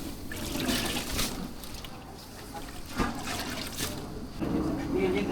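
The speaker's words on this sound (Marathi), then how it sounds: "आता ही पाण्यामधून धुवून झाली की लगेच बर्फामध्ये स्टोर करायची" Water splashing and trickling over freshly caught prawns being rinsed on a deep-sea fishing boat off Mumbai, a steady wet wash with a few louder gushes.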